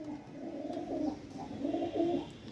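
Pigeons held for sale coo in low, rolling phrases, two rising bursts close by with quiet background noise between them.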